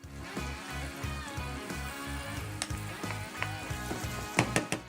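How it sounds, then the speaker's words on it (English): Onion stewing in butter and oil in a casserole pan gives a steady, close sizzle with low rhythmic thumps and a few sharp clinks near the end. "Butter. Add the onion. We're going to let it stew nicely."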